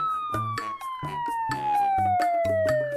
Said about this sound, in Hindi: अस्पताल से एक एम्बुलेंस फौरन गया और सत्येंद्र के घर पहुंचा।